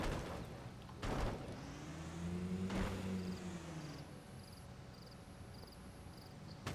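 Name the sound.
car manoeuvring to get unstuck in Call of the Wild The Angler video game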